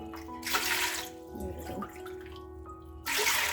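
Water pours from a glass onto sago pearls in a bowl for soaking, a close splashing stream in bursts, loud at the start and again at the end.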